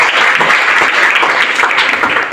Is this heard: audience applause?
yes